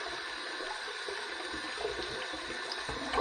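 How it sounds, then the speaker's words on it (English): Hot water runs steadily from a tap over a stainless steel razor, a continuous splashing stream at close range, with no talking. "we're going to heat this up under some hot water"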